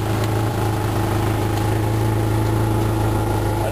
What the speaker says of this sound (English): It's idling on Woodgas right now